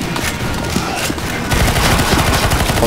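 Dense, continuous gunfire from CS:GO Zombies, a stream of shots against NPCs that grows louder and busier halfway through, with no voices over it.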